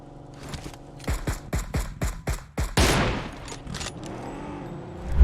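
Rapid shots ring out in PUBG Mobile, a quick rhythmic string of about eight loud cracks followed by a longer burst of gunfire that fades into a hum of background noise.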